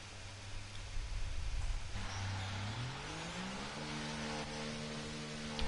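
A Formula 1 car in the F1 24 racing game pulls out of the pit garage, its engine note climbing steadily in pitch as it accelerates away over a constant hum of background noise.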